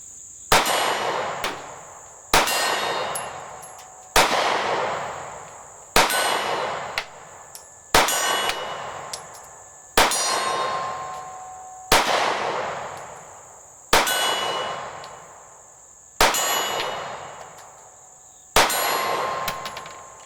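Pistol shots from an SCCY CPX2 ring out with sharp metallic clangs as they strike a Black Bart steel target 25 yards away. About a dozen shots come in a slow, evenly spaced series, each leaving a short ringing decay.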